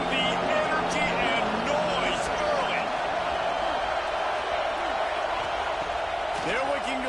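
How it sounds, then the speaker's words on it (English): A packed stadium crowd roars through a college football game in NCAA 26, a constant loud wash of noise beneath a commentator talking steadily over it. "This place is roaring, and it's going to be so hard to operate under these conditions."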